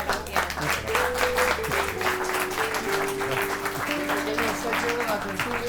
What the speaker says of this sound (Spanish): Pues un aplauso, muchísimas gracias.